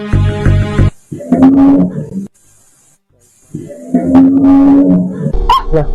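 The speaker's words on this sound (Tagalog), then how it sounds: "Nasa harap ko lang ang kumakahol at tumaangil ng maliit na aso" A small dog barks and growls nearby in loud bursts separated by a short silence, with harsh, tonal snarls between the barks.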